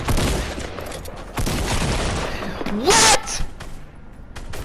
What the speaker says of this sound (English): I'm hearing a bunch of Homo sapiens out here exploiting gunfire in my lawn